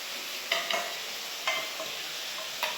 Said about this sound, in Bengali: আর একটু ভাজা হোক তারপরে মশলা দিব